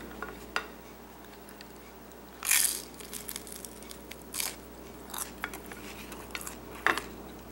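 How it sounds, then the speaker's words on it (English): Bites into crispy homemade pizza crust, a few sharp crunches spaced seconds apart with quieter chewing and faint plate or cutlery clinks between them, close and otherwise quiet. "We'll see if it's got a good crunch to it."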